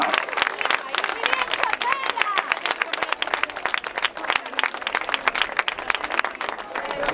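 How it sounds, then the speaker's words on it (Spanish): Audience applauding a bronze-medal rower at a traiñeiriña rowing championship final in Meira, a dense, continuous crowd of clapping hands that holds steady and lively throughout, with faint crowd murmur underneath. "Un aplauso para Atleta Muchapela"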